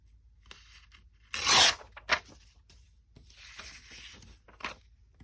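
Paper torn by hand into scraps for a mixed-media fairy art doll, giving one loud close rip followed by a shorter tear and softer rustling tears, with no talking.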